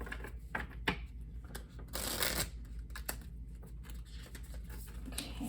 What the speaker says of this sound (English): Those didn't want to shuffle too well,